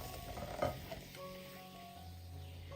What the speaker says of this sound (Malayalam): ഇതെല്ലാം ഒന്ന് ഇളക്കി യോജിപ്പിച്ചെടുക്കാം.